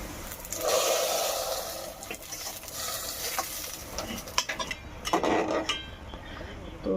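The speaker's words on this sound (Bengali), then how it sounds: "এখন ডালের মধ্যে ঢেলে দিব।" Fried onion tempering hits a pot of soybean dal with a close, loud burst of sizzling, mixed with stirring and scraping sounds that swell and fade.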